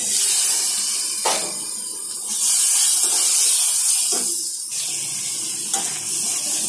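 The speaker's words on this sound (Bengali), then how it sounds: "পর্যায়ে দিয়ে দিচ্ছি জল" Water poured into spice paste frying in a pan with turmeric, chili and coriander powder: a loud, steady sizzling hiss that swells in waves, alone and close.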